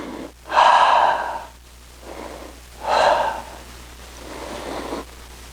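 Deep, deliberate breaths during a karate lesson: two loud close inhales and two softer exhales alternate in a slow rhythm, with no talk.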